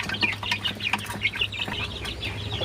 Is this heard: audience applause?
no